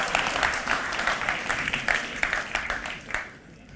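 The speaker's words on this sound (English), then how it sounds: "We have a massive round of applause, please, for Alex as he takes a seat." An audience at a magic show claps, a fairly loud, dense patter of many hands that swells and then fades out over a few seconds.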